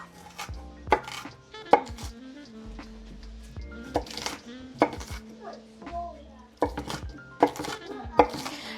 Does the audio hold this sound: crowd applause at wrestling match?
no